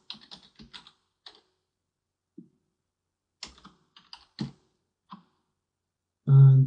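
Scattered keystrokes on a computer keyboard come in short bursts while a drawing file is named in CAD software, with quiet gaps between clusters and a louder, sustained burst at the very end.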